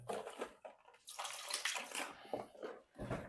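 Water splashes and pours into a batch of ground pork mince in a mixer during sausage making, a burst of watery splashing that runs through most of the moment with brief pauses, close and fairly loud.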